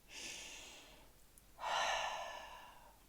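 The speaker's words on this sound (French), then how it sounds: "Prends une grande respiration." Two long breaths, a steady inhale followed by a louder, fuller exhale, close and quiet with no talking.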